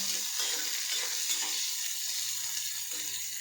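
Garlic, ginger, onion and tomato fry steadily in a pan, a continuous close hiss and crackle of hot oil with occasional scraping stirs, no voices.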